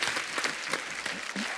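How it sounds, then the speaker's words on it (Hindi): A studio audience at The Kapil Sharma Show, an Indian TV comedy talk show, gives the guests loud, energetic applause: a dense, close burst of many hands clapping continuously throughout. "एक बार जोरदार तालियां हमारे मेहमानों के लिए।"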